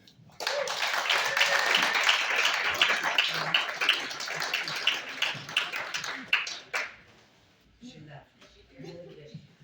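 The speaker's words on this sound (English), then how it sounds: "give them a wild and vociferous round of applause" An audience at the CFOIC Transparency Slam 2025 applauds the participants: a thick burst of clapping that holds for several seconds, thins into scattered claps and fades, with a voice talking briefly afterward.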